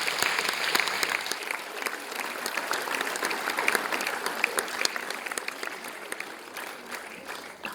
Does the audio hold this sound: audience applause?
yes